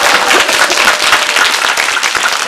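A cinema audience applauds the director at a film screening Q&A, giving loud, dense, continuous clapping that sounds close and bright, sustained with slight swells and no speech over it.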